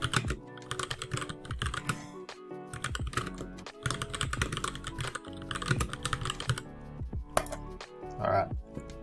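Fast, continuous typing on a computer keyboard to enter graph labels in Excel, a dense stream of close key clicks with a faint voice briefly in the background.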